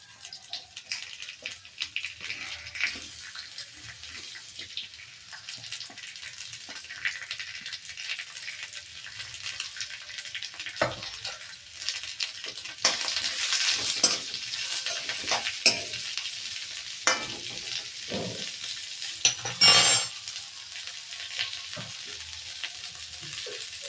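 Onions frying in a pan for cabbage palya, a low continuous sizzle that grows busier as they are stirred, with scattered scrapes and taps of the spatula and one sharp clatter near the end, close, no talking.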